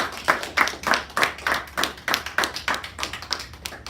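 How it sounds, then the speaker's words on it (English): A small audience at a children's public speaking school gives a short round of applause, a few people clapping in a sparse, fairly regular rhythm close by, with no voices over it. "I know the audience wanted to give you guys a big round of applause for pulling this off today"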